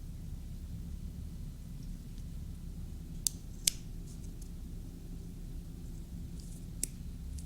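Scissors making two small snips in handbag fabric for a magnetic closure, two short crisp cuts close together against a low rumbling background, with a fainter click later.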